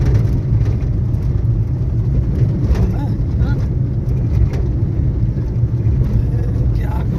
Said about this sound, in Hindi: गाड़ी चलाता हूँ